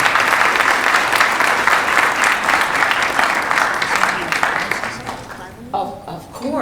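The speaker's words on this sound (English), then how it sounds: "Let's give them a rousing round of applause." A conference audience at a New Jersey League of Municipalities session applauds a panel, a full sustained round of clapping that fades out near the end as a voice begins speaking.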